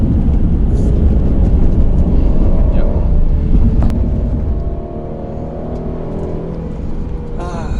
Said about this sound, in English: First off, the sound of the engine. The sound of the engine is just alluring.